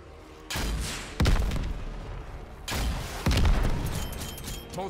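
Frag grenades going off in Call of Duty Cold War: two pairs of loud close blasts, each a thump followed by a sharp crack and a rumbling tail.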